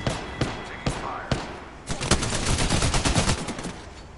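Rapid gunfire in the video game Apex Legends: a few separated sharp shots, then a dense burst of automatic fire, loud and close.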